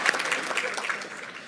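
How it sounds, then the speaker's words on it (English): Audience applause at a women's charity luncheon, a steady wash of many hands clapping at moderate volume for about a second and a half, with faint murmuring mixed in. "We should clap."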